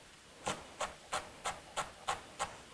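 A knife quick-chops leftover onion on a board: seven quiet, evenly spaced knocks, each a short crisp tap, with no talking.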